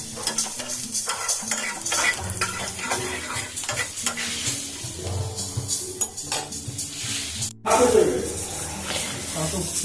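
Panch phoron and a dried chilli fry in hot oil, giving a soft sizzle and crackle mixed with stirring and pan clatter, with a sharp clunk near the end.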